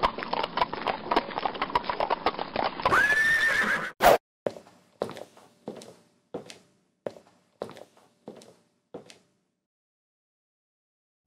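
A merchant's horse gives a loud, high neigh, followed by a slow, evenly spaced run of clear hoofbeats clip-clopping on a hard surface that fade out and leave a short silence.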